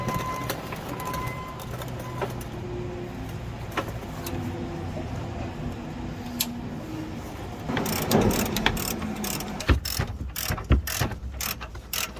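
Ratchet and socket wrench work on the 24 mm bolts of a 2022 Ram 2500's front tow hook: steady mechanical ratcheting, then a burst of sharper clicks and clanks toward the end, fairly close.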